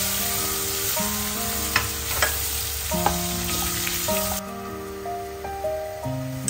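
Anchovies fry in hot oil with a dense, steady sizzle and bubbling crackle, with a few louder pops and stirring taps over a faint background hum.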